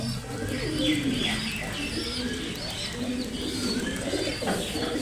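Pet pigeons coo repeatedly at close range with some chirps mixed in, over a busy background, as people speak faintly nearby.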